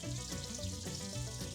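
Tap water runs steadily into a sink as hands are washed in a home kitchen before cooking, a faint continuous splashing hiss.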